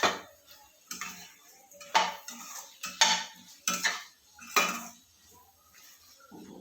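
A spoon stirs drumstick curry with peanut masala in a metal pan, giving repeated clinking scrapes roughly once a second, close and fairly faint with quiet gaps between strokes.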